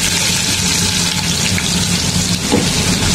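Plenty of onions frying in oil in a kadai (wok) for a fish bhuna, giving a steady, loud broadband hiss and crackle that holds evenly throughout without pauses.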